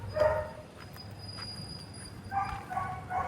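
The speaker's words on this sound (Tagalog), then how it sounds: "Ang daming aso" Dogs barking in the Philippines, a few short yips and barks at moderate distance over steady background hiss, with a brief burst early and another cluster near the end.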